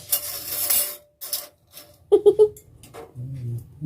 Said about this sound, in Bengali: এইখানে রেখে দিচ্ছি চামচ